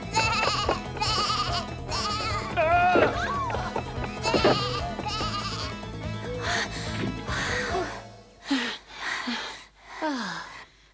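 Goat bleats in a Snow White story video game, several short wavering cries after a stretch of busy game music and voices, the last few calls standing out alone near the end.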